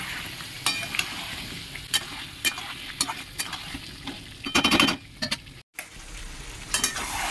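Cut potatoes fried in oily spice masala for a simple egg curry, with a spatula scraping and tossing them in the pan in irregular strokes over a soft steady sizzle, close by, with a brief silent gap near the end.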